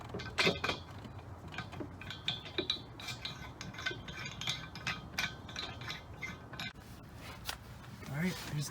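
Hand ratchet clicking as 16mm bolts are loosened from the engine support V-bar of a BMW 335i, steady close ratcheting with metallic clinks and tool handling throughout, no talking.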